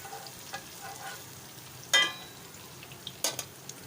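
Vegetables fry over a high flame in a pan while being stirred, a soft continuous sizzle with a few sharp scraping clinks of the utensil, close and fairly quiet with no talking.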